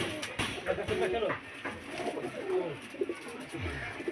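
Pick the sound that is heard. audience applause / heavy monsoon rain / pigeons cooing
pigeons cooing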